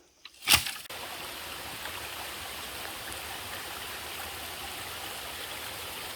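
Steady broadband rush of a stream flowing beside a hiking trail in Shenandoah National Park, preceded by a brief sharp click at the start, then a constant, moderately faint wash of water with no voices.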